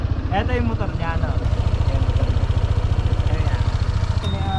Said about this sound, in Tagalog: Ito yung motor niya, no?